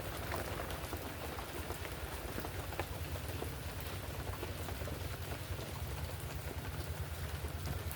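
Steady rain pouring down, a dense, even hiss of drops on surfaces close by, constant and unbroken throughout with a low rumbling undertone.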